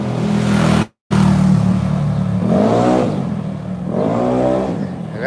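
Loud motorcycles pass on a provincial highway in the Philippines: a close, continuous engine roar with two distinct rising-then-falling revs as bikes sweep by, heard alone.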